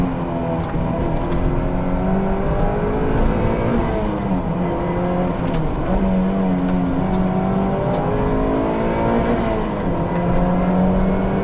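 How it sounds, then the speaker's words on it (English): A modified Mazda MX-5 NC with a 2-liter engine accelerates hard, its engine note climbing through several rising revs with shifts in between, loud and close from inside the car, with no talking. "This is a properly quick car now with this 2-liter engine"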